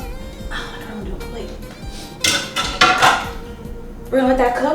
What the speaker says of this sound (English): now we're gonna put our veggies in this pot